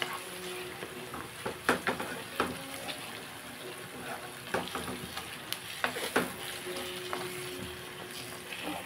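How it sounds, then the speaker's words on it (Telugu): Ground gongura (sorrel) leaf paste frying in oil in a pan, a steady soft sizzle with scattered scraping stir strokes and clinks throughout, no voices. "దీన్ని కూడా మనం 1 నిమిషం ఫ్రై చేసుకున్నాం ఆయిల్లోని."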